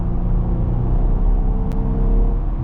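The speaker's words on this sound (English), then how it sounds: "Hear that V6." A 2023 Jeep Rubicon two-door's V6 engine accelerating during a drive, heard from inside as a steady, deep rumbling drone that holds an even level throughout.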